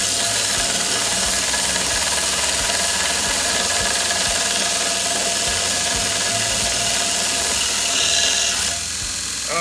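Grinder with an abrasive grit disc pressed against a cooking pan to heat it, a loud, steady grinding roar with gritty rumble that runs continuously, then drops off abruptly at the end, with no voices.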